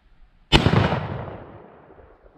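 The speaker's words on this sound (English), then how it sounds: "Shot right over that gourd." A single sharp gunshot from a Winchester lever-action rifle cracks loudly outdoors at a shooting range, then rolls away in a long fading echo over about two seconds.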